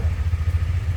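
A motorcycle engine idles steadily nearby, a deep pulsing rumble with a light mechanical clatter, running alone without talk.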